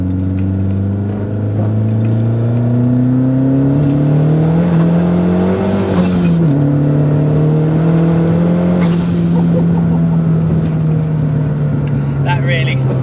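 A 525 bhp turbocharged Renault Megane 225 accelerates hard at full boost, its engine note climbing loudly through the gears with a short dip at a shift, heard from inside the car as voices talk over it.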